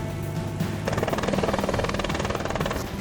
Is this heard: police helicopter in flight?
yes